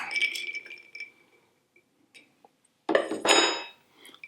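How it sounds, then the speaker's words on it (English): A whiskey drink is stirred in a glass at a distillery, giving bright clinks and scraping rattles near the start and a louder swirling, clinking burst later. Quiet gaps fall between them, and no one speaks. "Stir it around a little bit."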